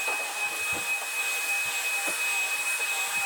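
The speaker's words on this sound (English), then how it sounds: "we're just going through and vacuuming" A vacuum cleaner runs steadily while vacuuming carpet during low-moisture cleaning, its close, even whine and hiss broken by soft thumps and bumps as the head is pushed along.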